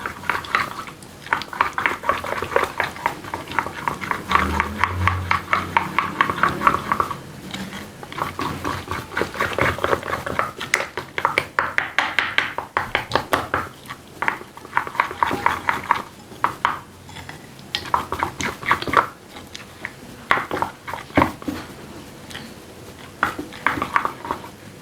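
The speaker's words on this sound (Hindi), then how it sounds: "इसको भी हमने अच्छी तरह से मिक्स कर लेना है।" Zinger shawarma filling being stirred in a bowl, a spoon scraping and clinking against the sides in steady repeated strokes, close and moderately loud, with brief pauses between bursts and no talk.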